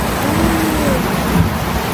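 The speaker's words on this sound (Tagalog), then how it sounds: "sobrang lakas ng ulan." Heavy rain pours in a loud, dense, continuous roar close by, with no other sound over it.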